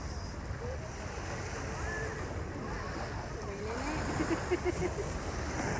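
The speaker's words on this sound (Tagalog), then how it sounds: "Ayan yung dagat." Continuous roar of sea waves and surf on a beach mixed with wind buffeting the microphone, with faint voices in the background.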